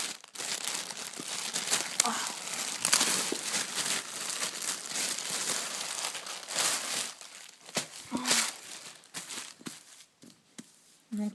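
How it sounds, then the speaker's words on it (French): A parcel of clothing being unwrapped, plastic packaging crinkling and crackling close up in repeated bursts for several seconds, with faint movement in between. "Donc je vais déballer"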